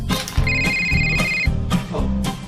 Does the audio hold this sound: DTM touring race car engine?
no